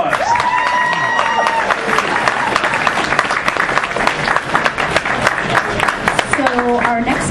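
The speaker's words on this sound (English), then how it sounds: "Round of applause." An audience at a comic convention awards ceremony claps and cheers loudly and continuously, with voices speaking over the applause at the start and end.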